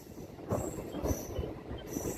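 A MEMU electric train pulls into Vedayapalem halt station near Nellore, its low rolling rumble swelling in a few soft surges with a faint metallic squeal above, heard from on board at moderate distance.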